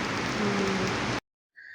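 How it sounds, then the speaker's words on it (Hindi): Heavy rain pours down in Dubai as a dense, steady hiss for just over a second, then cuts off abruptly into silence before a faint tone. "आज जो बारिश है ना वो कभी नहीं मिली मुझे अभी तक"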